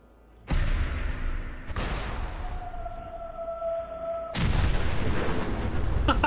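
A Nuka launcher shot going off in Fallout 4: a loud explosive boom, then a second blast with a wavering siren-like whine trailing after it, and a third heavy rumbling burst near the end, all dense and close.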